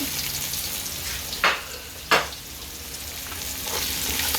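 Shredded chicken goes into a sizzling frying pan and is stirred, a continuous fry hiss broken by two sharp scraping strokes close by.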